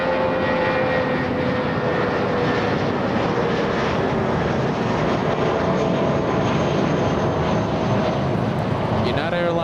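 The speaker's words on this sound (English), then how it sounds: "United Airlines 1286. Flying in from San Jose del Cabo, getting a move on." A United Airlines jet arriving from San José del Cabo taxis across runway 25 Right at LAX. A loud, continuous jet engine roar holds steady throughout and swells slightly near the end.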